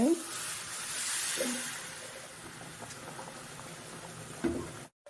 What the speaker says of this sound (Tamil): இதுக்கு வந்து நம்ம 2 தண்ணி ஊற்றிக்க போகிறோம்